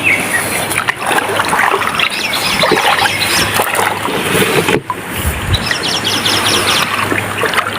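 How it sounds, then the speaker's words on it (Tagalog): Wild birds chirp and call in a remote natural area near water, with short bright tweets scattered over a steady outdoor rush. "Nagtutunugan yung mga ibon."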